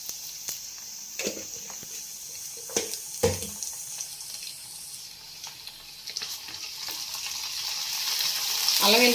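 Onions fry in a pan for a potato and egg curry. Sparse clicks and utensil taps sit over a faint sizzle that swells into a louder, hissing crackle near the end, with no talking.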